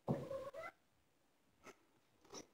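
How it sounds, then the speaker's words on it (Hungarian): Cat crying indoors, one drawn-out meow followed by two short, quieter cries after a pause, close by in an otherwise quiet room. "Kis cicám valamiért sír."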